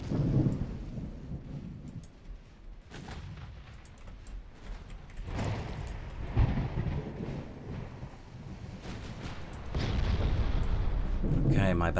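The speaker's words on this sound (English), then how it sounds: "my battleships are about to open fire again. Luckily. Here go the Nevada guns." Heavy battleship main guns, including a Nevada's, fire in the naval strategy game Ultimate Admiral Dreadnoughts, with deep booming blasts rolling over a constant rumbling battle din, the loudest salvos near the end.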